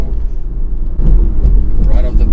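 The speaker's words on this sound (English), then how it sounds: "I'm gonna put it in sport mode so we can have a feel of acceleration" A 2023 BMW 430i Convertible accelerates in sport mode, its engine a loud, steady low drone that swells and strengthens partway through, with road rumble underneath and a voice speaking over it.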